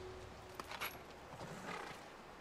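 Horses in The Last of Us video game stir faintly, with soft snorts and hoof shuffles over a steady ambient hiss, no talking.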